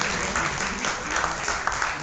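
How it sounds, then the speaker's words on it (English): A round of applause for a birthday honoree at a Vyas Puja gathering, steady crowd clapping throughout with voices faintly mixed in. "Let's give him a round of applause."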